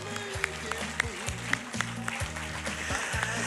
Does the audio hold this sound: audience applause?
yes